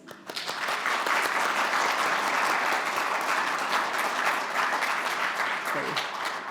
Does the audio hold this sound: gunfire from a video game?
no